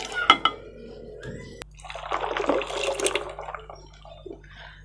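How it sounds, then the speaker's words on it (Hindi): Cold milk pours into a shake in a glass, a soft liquid splashing and trickling for a couple of seconds after a few clinks, fairly quiet and close. "इसमें अभी हम दूध डालेंगे।"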